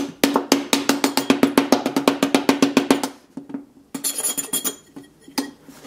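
A knife scrapes across the glass of a Samsung Galaxy S6 Edge in a hammer and knife scratch test, making a rapid, regular train of sharp clicking ticks for about three seconds, then a rougher, uneven scraping burst.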